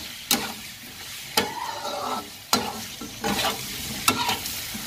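Meat frying in a pan is stirred about five times, each scrape a sharp clatter followed by a short sizzling burst, over a low steady background.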